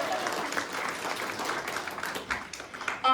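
An audience at a fall showcase applauds for Maria, a model in a portrait, with a steady, moderately soft stretch of continuous clapping from many hands and a faint voice near the end.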